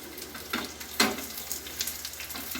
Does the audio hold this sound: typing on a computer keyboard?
no